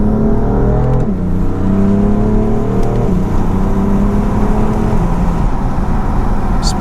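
A BMW F82 M4 Competition with a 3.0-litre twin-turbo engine accelerates hard from inside the car, the loud engine note rising through gear changes, with a brief sharp exhaust pop near the end.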